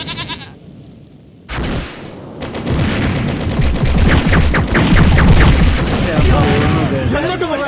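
Gunfire in the Mini Militia video game on the Outpost map, rapid bursts of shots over a loud, continuous voice talking throughout.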